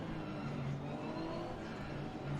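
Mercedes GT3 race car engine in the Assetto Corsa Competizione racing game, a steady droning engine note held at moderate volume without talk.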